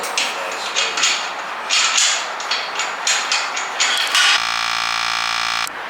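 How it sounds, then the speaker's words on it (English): Hammer drill bores into a concrete garage floor to anchor a two-post lift, a rapid rattling percussive chatter in uneven bursts, followed by a steady electronic buzzing tone near the end. "They have to drill the concrete and put bolts in."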